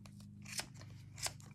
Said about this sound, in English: Just keep the blade of the scissors in that little channel there.